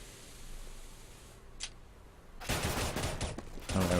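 Counter-Strike: Global Offensive gunfire on the Mirage map during a competitive match: a sharp shot, then a loud, close burst of rapid rifle fire over a steady background hiss.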